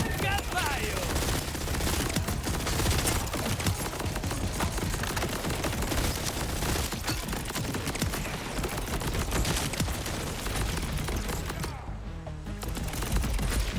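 Sustained gunfire from a weapon in Borderlands 4, a long, dense stream of rapid shots that barely pauses, loud and continuous with a voice occasionally audible underneath.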